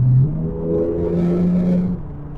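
A tuned stage 4.25, 740 bhp Nissan R35 GT-R engine hums and rises in pitch as it revs to about 3,000 rpm, a steady droning tone close by with no voices.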